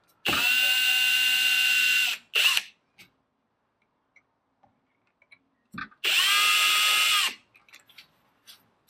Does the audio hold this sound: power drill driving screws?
yes